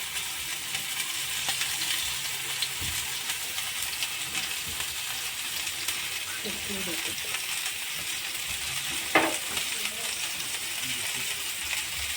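Halwa fish coated in masala fries in a few spoonfuls of oil, a steady soft sizzle running throughout with a couple of faint utensil clicks and one brief sharper tap near the end.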